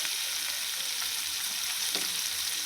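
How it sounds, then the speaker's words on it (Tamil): Onions sautéing in a pan for drumstick sambar give a steady, dense sizzle up close, with a brief scrape of stirring partway through. "நல்லா வெங்காயம் வதங்கட்டும்."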